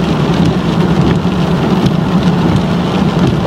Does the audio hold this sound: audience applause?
no